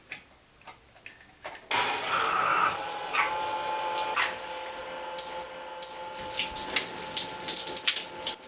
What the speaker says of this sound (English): I ended up buying this submergible pump that is 12 volt and it has a head height of 15 meters